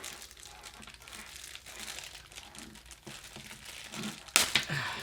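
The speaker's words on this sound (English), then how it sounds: "Let's get the cable out of the bag here." A headphone cable is tugged out of a plastic bag, giving several seconds of close, steady crinkling and rustling with one sharp, louder crackle near the end.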